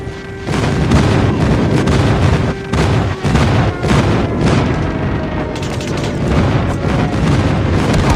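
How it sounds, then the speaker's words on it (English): Airstrike explosions in the Call of Duty Mobile video game roar as a dense, loud, continuous wall of booming blasts and gunfire rumble, with barely any gaps. "Friendly airstrike incoming."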